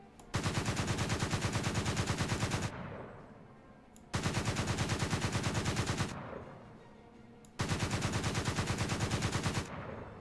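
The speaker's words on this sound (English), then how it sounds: "let's go with some test firing here" Anti-aircraft gun test firing in War Thunder, three long bursts of rapid, loud automatic fire separated by short pauses with echoing decay.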